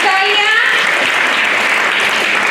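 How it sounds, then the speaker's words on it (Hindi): Sustained applause from a school audience cheering a student house team, a dense, steady wash of clapping throughout, with a faint voice or tone audible only at the very start. "इनके लिए जोरदार तालियां।"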